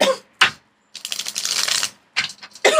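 Cards riffled and shuffled up close, several quick papery bursts separated by short pauses, with no voices.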